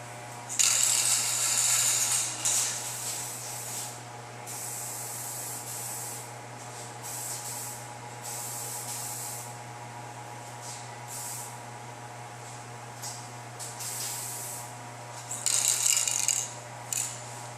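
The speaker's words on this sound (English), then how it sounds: "I'm going to give the bare plastic one coat of this plastic adhesion promoter" An aerosol can sprays plastic adhesion promoter onto a bare car bumper with repeated hissing passes of varying length, close and fairly loud, over a low steady background hum; no one speaks.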